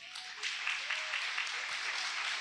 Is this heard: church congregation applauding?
yes